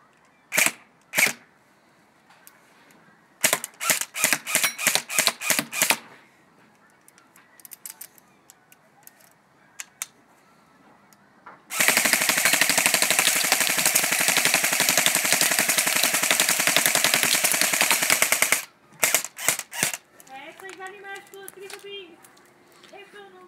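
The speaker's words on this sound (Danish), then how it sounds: "faktisk skyde en gang, selvom den skyder en lille" Splat gun (gel blaster) fired in quick bursts of sharp snapping shots, then a long continuous buzzing full-auto stretch, followed by a few more shots and speech near the end.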